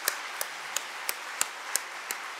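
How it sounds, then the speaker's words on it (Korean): Sparse, evenly spaced claps from a church congregation during Sunday worship, about seven sharp distinct hits at a steady slow rhythm, fairly quiet in a room with no talk. "우리 대원들 다시 한번 크게 박수로 감사를 표시하겠습니다."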